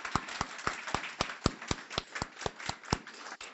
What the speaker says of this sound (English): So yes, applause